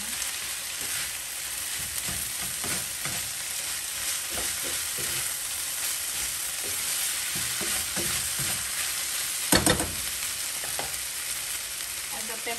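Potatoes fry with minced chicken in a pan, giving a steady, dense sizzle with scattered crackles and a brief scrape of stirring near the end.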